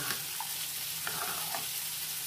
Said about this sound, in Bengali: এই সবজিগুলো একটু ভাজা ভাজা হয়ে গেছে